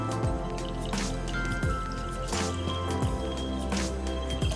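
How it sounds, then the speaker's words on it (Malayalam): Water is poured into a jar of pineapple wine, giving a continuous liquid pour with dripping and gurgling tones that shift in pitch as the jar fills. The sound is close and clear, with no talking. "നമുക്ക് ഒഴിച്ച് നോക്കാം."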